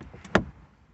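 A car door on a Mini Cooper S (F55 hatchback) being opened, giving a single sharp latch click and thunk, close and fairly loud, followed by quiet.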